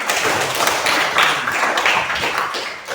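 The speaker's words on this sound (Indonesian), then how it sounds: "Mana tepuk tangannya?" Students clapping together in a classroom, a dense steady patter of many hands applauding at close range for a few seconds with no pause.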